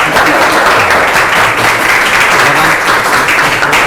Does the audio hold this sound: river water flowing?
no